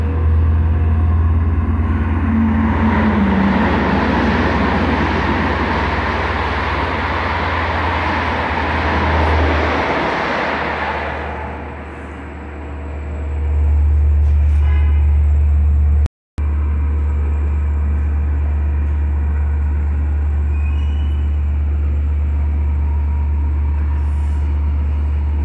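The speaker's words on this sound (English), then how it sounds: "Long Island City to Oyster Bay, pulling into the station now." A heavy diesel commuter train with a DM30AC locomotive pulls into a station, its engine rumbling loudly and steadily close by, the roar swelling then settling into a deep idling drone, with no talking.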